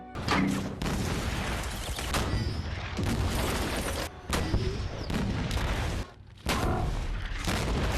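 Dense gunfire and booming tank cannon blasts from a World War II tank battle scene against German tanks, a loud continuous barrage with brief dips between heavy volleys.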